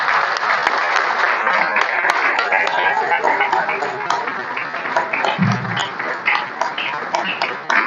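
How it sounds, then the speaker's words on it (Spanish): An audience at an artistic delegation's reception in the Palacio Barolo, Buenos Aires, bursts into loud, sustained applause: dense clapping from many hands that carries on steadily for several seconds. "Fuerte el aplauso."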